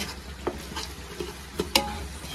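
Coconut paste being stirred into frying biryani masala in a pan, a soft steady sizzle with a few sharper scraping clicks from the spoon, close and quiet.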